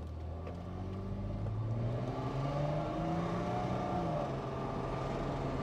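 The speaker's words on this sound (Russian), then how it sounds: "Мотор работает ровно, тихо, бензинчик." A 1998 Audi A6 C5 2.8 petrol V6 quattro with 192 hp runs and pulls from inside the car as a smooth, steady hum whose pitch rises gradually. A constant low rumble lies underneath, with no talking.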